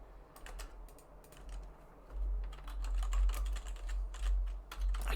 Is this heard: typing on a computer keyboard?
yes